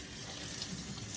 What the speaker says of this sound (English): I spray it with water